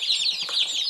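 Small barred rock laying hens on a farm, a steady chorus of high chirping and clucking that runs through the whole moment without pause, fairly close and with no talk over it.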